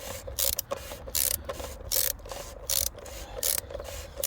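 Socket ratchet tightening the oil drain plug on a Volvo S80 D5, heard up close as a rapid series of clicking pawl bursts in a steady back-and-forth rhythm with brief pauses between strokes and no talk.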